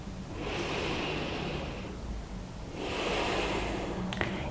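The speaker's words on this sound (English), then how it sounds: "Try just breathing in through your nose if you can." Two long, steady breaths are drawn in through the nose, close to the mic, each a soft rushing hiss with a brief pause between them.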